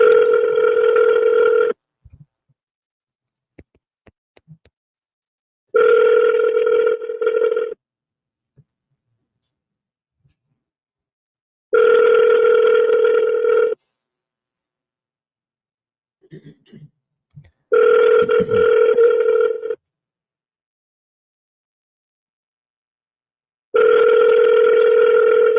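A telephone call rings out unanswered: five evenly spaced ring bursts, each about two seconds long with long silent gaps between them, clear and alone.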